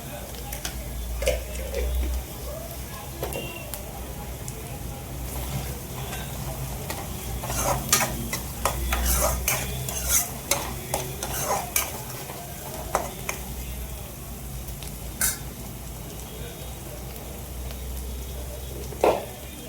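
Half a spoon of cumin seeds sizzles softly in hot oil in a pan, with a spoon scraping and stirring through it in irregular bursts, fairly close and steady throughout.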